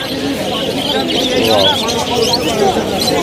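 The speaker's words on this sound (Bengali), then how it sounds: "বিভিন্ন রকমের পাখি দেখুন, পিঙ্ক, জাভা, ককটেল, সানকনিও, বদ্রি, পায়রা সব আছে।" Mixed small birds chirp and tweet at a busy bird market with finches, java sparrows, cockatiels, budgerigars and pigeons, a dense steady twittering bed under crowd babble and nearby talk.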